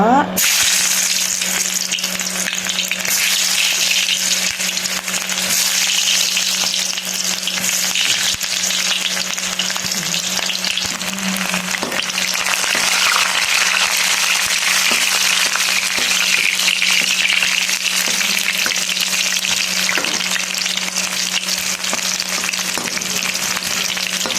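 Thingthupui frying in hot oil, a dense, continuous sizzle and crackle with stirring clatter, close and loud and steady throughout, with no voices.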